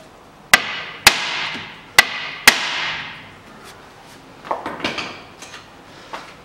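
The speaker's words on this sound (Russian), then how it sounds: "Берем молоток, выкручиваем колесо и спереди несколько хлестких ударов отбиваем" A hammer strikes the front suspension of a 2006 Hyundai Accent 1.5 to knock loose a ball joint. There are four loud, ringing metallic blows about half a second apart, each decaying slowly, then some quieter clinks and rattles.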